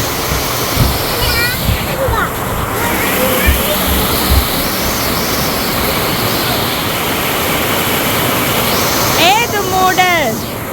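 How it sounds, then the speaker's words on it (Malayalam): Heavy rain falls steadily as a dense, continuous wash of noise during the Thulam monsoon season in Kerala, with birds chirping briefly near the start and again near the end. "മഴ കണ്ടോ? മഴ."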